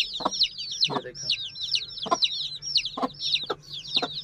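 Lasani Aseel hens with chicks on a Sargodha rooster farm, a rapid series of sharp high peeping calls in regular bursts with low clucks beneath, close by.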